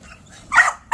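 A six-month-old puppy gives two short, sharp yips, close and loud, within about a second.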